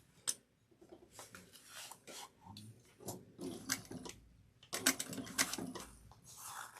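Short bursts of sewing-machine stitching run across a zip pouch, stopping and starting in quick irregular runs with light mechanical clicks and fabric handling between them, close and fairly quiet.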